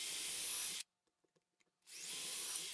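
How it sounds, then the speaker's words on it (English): A power drill fitted with a 1/8 inch bit bores down through wood in two loud, close bursts of whirring grind, with a near-silent pause between them broken only by a few faint clicks. "take our 1/8 inch drill bit, find that center point from the brad tip drill bit, and just drill completely all the way down"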